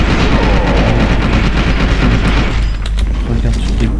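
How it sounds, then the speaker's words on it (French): Dense, continuous gunfire fills the FEAR 2 video game action, a loud unbroken barrage of rapid shots and booms that stays close and heavy throughout. "Regarde toutes les balles qui te traversent"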